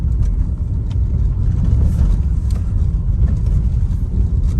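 A car engine rumbles loud and low inside the cabin, a steady heavy drone as the car accelerates through the gears toward third, with no talk.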